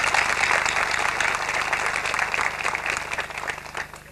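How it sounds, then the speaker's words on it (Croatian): A room of people at an HDZ pre-election public meeting in Čačinci breaks into warm, continuous clapping that holds steady, then tapers off slightly toward the end. "možemo ga pozdraviti jednim pljeskom"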